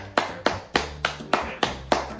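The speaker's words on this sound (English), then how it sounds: "Give this man a round of applause." Seven slow, evenly spaced hand claps ring out close and crisp, each sharp smack followed by a short decay, with no talking in between.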